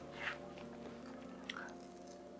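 Biting into a crunchy homemade salmon fritter, a couple of quiet close crunches followed by soft chewing, heard faintly and alone.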